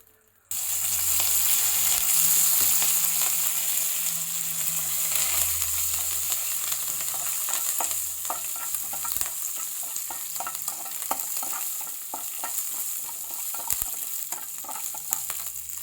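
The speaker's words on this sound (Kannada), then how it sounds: "ಒಗ್ಗರಣೆ ಆಗ್ತಿದೆ." Spices for a tomato curry tempering in hot oil in a pan, a loud, steady crackling sizzle that starts abruptly and carries on with frequent sharp pops and stirring, with no talk over it.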